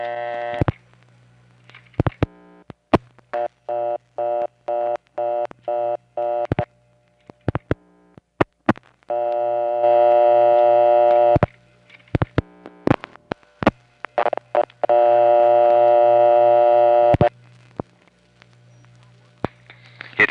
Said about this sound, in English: I'm now going to dial 1, 1.